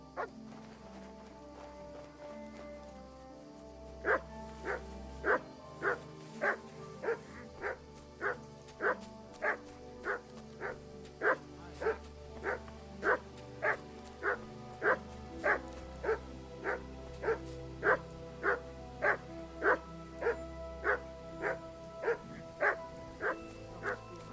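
A dog in the medieval game Kingdom Come Deliverance 2 barks steadily, about thirty evenly spaced woofs at a mid distance over a low constant background hum.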